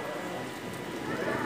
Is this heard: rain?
yes